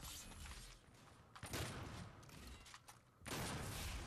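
Vortex rifle and sniper fire in the shooter game DOOM cracks out in dense bursts with mechanical clatter between them, fairly faint in the mix, with a heavier sustained volley near the end.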